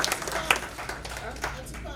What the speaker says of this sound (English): let's clap for yourself for being here too